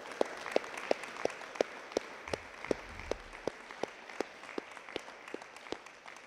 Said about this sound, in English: So I'd like to first give you guys a round of applause.